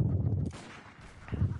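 Two heavy gunshots boom in Bloodborne, one at the start and another just before the end, each with a short fading tail.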